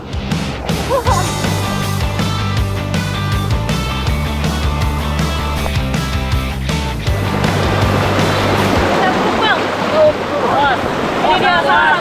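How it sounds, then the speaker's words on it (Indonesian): Loud, constant roar of fast-rushing river water, with wind buffeting the microphone and a rumbling mechanical drone underneath throughout. "Aduh, jadi cukup ekstrim ini dengan arus sungai yang deras."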